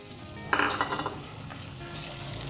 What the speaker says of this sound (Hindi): अब हम इसके अंदर तली हुई प्याज को डालेंगे ताकि इसका जो सीधापन है वो थोड़ा ख़त्म हो जाए।